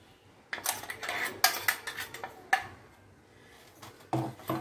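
Ground rice powder is tipped into a cup while making phirni, with scattered clinks and clatters of dishes and a metal spoon against a cup at close range.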